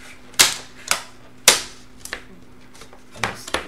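Plastic bezel on a Dell Latitude D420 laptop being pried and snapping loose, heard as a few sharp, close clicks and pops spaced unevenly, with smaller cracks in between.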